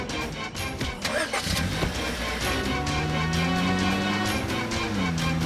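A car engine cranks over and catches, settling into a steady, close idle with a low hum and no voices.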